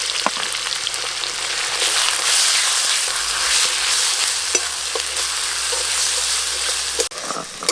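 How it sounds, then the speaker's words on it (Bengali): Chopped onion and garlic frying in oil with bay leaves and dried red chillies, a steady loud sizzle with occasional clicks of stirring, running continuously until a sudden dip near the end. "রসুন আর পেঁয়াজ ভালো করে ভেজে নিয়েছি"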